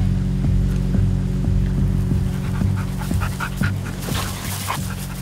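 A police dog candidate tied up on its own pants rapidly and rhythmically, close and fairly loud, with a few soft whimpering sounds toward the end and no speech.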